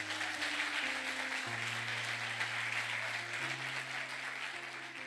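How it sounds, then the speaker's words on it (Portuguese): A church congregation applauds during a sermon, steady broadband clapping filling the room for the whole stretch with sustained organ or keyboard tones underneath. "Aplauda o Senhor mais uma vez aí"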